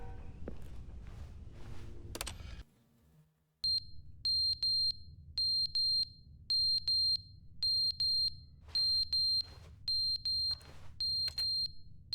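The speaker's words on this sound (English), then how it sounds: "What is that? Smoke detector?" Repeated electronic smoke detector chirps inside the video game The Stanley Parable, sounding as short paired high beeps at a steady rhythm over a low ambient hum, fairly loud and alone.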